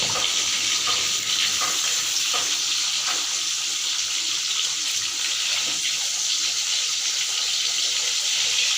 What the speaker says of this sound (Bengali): মাছগুলোকে ভেজে নিচ্ছি প্রথমে ভালোভাবে